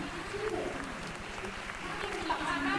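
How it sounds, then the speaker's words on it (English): A seminar audience gives Melissa a round of applause, a sustained crowd clapping mixed with background voices and a low hum throughout. "So please give Melissa a big round of applause."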